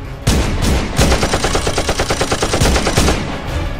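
Rapid gunfire rattles through a scene in an animated episode, a dense, loud burst of repeated shots with heavier blasts at the start and near the end, and no talk over it.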